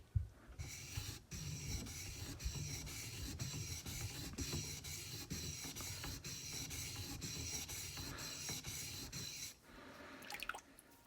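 Sloyd knife being sharpened on a 1000 grit stone, a steady rhythmic scraping of the bevel back and forth across the wet stone with regular strokes, close and continuous, pausing near the end.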